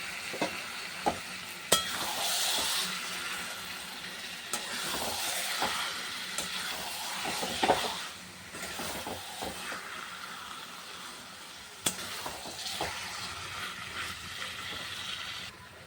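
Chicken sizzles in cooked masala in a pan, a continuous frying hiss broken by repeated spoon scrapes and taps, moderately quiet and close.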